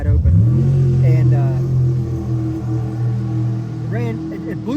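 A Whipple-supercharged 2003 Mustang Cobra launches down a drag strip, its engine roaring loud and close in a sustained howl that holds steady, with a voice talking over it.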